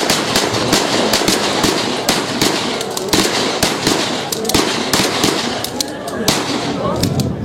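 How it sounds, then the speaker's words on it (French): At a Bamileke funeral ceremony in the Grassfields of West Cameroon, guns fire into tree branches in a rapid, irregular volley of loud, sharp cracks, some close together, over a crowd's murmur. "Les coups de feu dans les branches d'arbres lors des cérémonies funéraires en pays Grassfield symbolisent"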